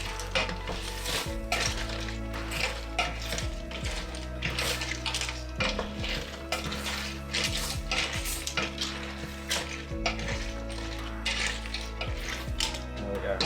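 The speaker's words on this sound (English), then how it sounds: "I'm just going to quickly give them a stir." Fresh foraged cockles clatter and scrape in a metal cooking pot as they are stirred over heat, shells rattling in quick irregular bursts above a steady sizzle and hiss, close and loud with no talk.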